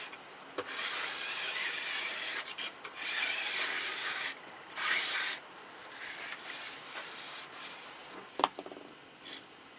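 A file rasps along the metal edge of a ski during tuning, making steady, close scraping strokes with short pauses between passes and a sharp knock near the end. No one talks.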